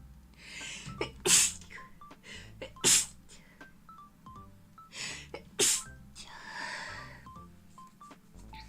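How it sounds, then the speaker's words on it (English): Several sharp sneezes burst out one after another, with short pauses between, alongside faint electronic beeping tones. "I need to sneeze again."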